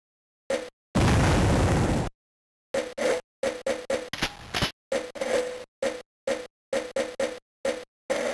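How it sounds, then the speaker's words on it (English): In the Army Men video game, a mortar goes off in one loud, sustained burst, followed by a string of short, choppy pops and bangs separated by abrupt silences. "Mortar."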